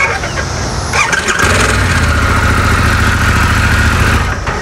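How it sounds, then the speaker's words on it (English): A Harley-Davidson Pan America motorcycle engine cranks on the ignition button and catches, settling into a loud, steady rumbling idle close by with no talking. "this is naturally at your start button, that's your ignition"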